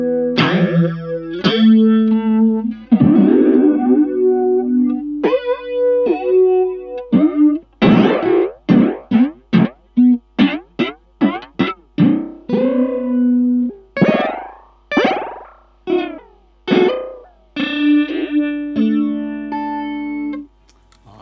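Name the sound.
Dreadbox Disorder fuzz effect, static knob controlled by envelope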